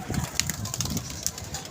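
A pigeon flies in and lands nearby, with soft wingbeat flutters and faint cooing over a low rumbling background, no talk.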